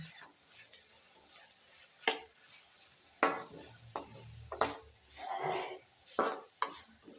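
Onions being fried and stirred in a pan with salt, a soft sizzle underneath with several distinct scraping stirs of a spoon against the pan, the louder strokes spaced irregularly across the moment.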